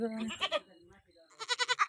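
A young goat bleats twice up close, short and wavering, with a brief pause between the calls.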